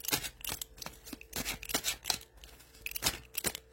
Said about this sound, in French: c'est mes petites cartes qu'il faut manier avec délicatesse